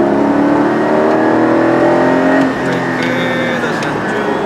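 Porsche 718 Cayman GT4 or Cayenne Turbo GT accelerating hard on a race circuit, a loud close engine note climbing steadily in pitch, then easing off and settling into a steady drone with faint tyre and wind noise.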